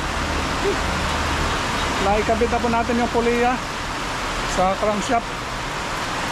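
Heavy rain pours down steadily around an Isuzu Trooper under repair, a dense hiss that runs throughout while someone talks over it in two short stretches.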